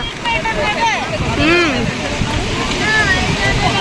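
Rain falls on the sea beach at New Digha with steady surf and wind noise, loud and close throughout, while people talk over it.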